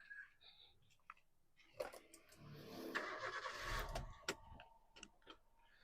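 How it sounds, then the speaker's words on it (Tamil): A 2011 Maruti Suzuki Ritz petrol car starts with a brief starter crank, and the engine catches into a low rumble. Clicks and handling noises come before and after, all fairly quiet. "இன்ஜின் இப்போ நான் உங்களுக்கு ஸ்டார்ட் பண்ணுறேன்"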